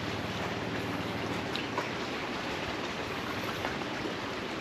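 Steady rushing flow of a stream at a nature camp, a continuous broadband wash of water without breaks, fairly close and alone with no voices.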